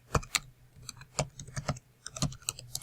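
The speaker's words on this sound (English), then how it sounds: "we can go to this website.informer.com and we can type in" Close, crisp keystrokes on a computer keyboard as a web address is typed, irregular taps with brief gaps between them, fairly quiet and with no talking.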